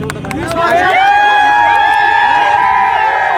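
Young football fans in Kolhapur celebrate Argentina's 2022 FIFA World Cup final win with a loud, sustained crowd roar of cheers, whoops and shouting, close and dense throughout before cutting off abruptly.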